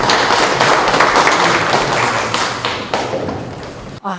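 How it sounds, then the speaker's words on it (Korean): Large audience applause at a nuclear safety regulation workshop welcomes a speaker, many hands clapping loudly and continuously before cutting off abruptly near the end. "이나영 원장님을 큰 박수로 환영해 주시면 고맙겠습니다"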